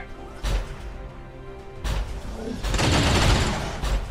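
Rapid-fire gunshots in XCOM 2, Long War of the Chosen, during an assault on a Quebec headquarters: a sharp shot, a pause, then a heavier sustained volley of blasts building to a loud crackling burst.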